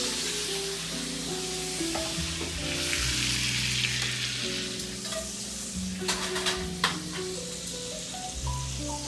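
A ribeye steak sears in a hot pan, giving a steady crackling sizzle with scattered sharp pops and occasional scraping, continuous and close throughout.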